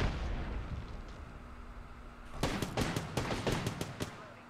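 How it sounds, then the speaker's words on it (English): A grenade blast in the shooter game Apex Legends, heard as a quick burst of sharp bangs and pops fairly close, following a quieter stretch of background battle noise. "Oh, that's a grenade."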